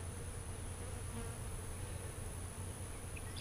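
Honey bees drone at an open hive after the honey harvest, a thick, steady buzz close by with a constant high whine above it and no voices.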